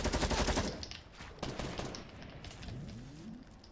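Rapid automatic gunfire from a silenced SCAR in a shooter video game, a dense burst of shots up front followed by scattered sharper reports and fading game noise.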